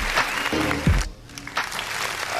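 Audience applause at a live music session, brief bursts of clapping mixed with background voices and a low tonal sound.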